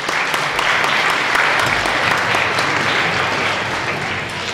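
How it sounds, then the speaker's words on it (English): A concert audience claps steadily and warmly for several seconds, dense applause filling the room. "So one round of applause for all of you."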